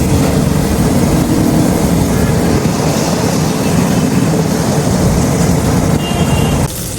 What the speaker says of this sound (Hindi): बड़ी तेज़ हवाएं चलना शुरू हो गई है क्योंकि आंधी का इम्कान है आज